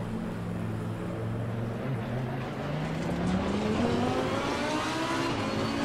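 A race car in the sim racing game Assetto Corsa Competizione pulls away, its engine droning loud and steady as the pitch climbs through the gear, with no talking.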